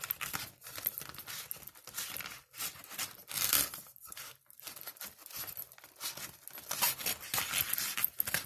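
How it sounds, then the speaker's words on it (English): A mirror is slid into the zippered compartment of a Becko cosmetic case, giving soft, close crinkling and fabric rustling in irregular small bursts, quiet and with no voices. "take your mirror and go inside this zippered area"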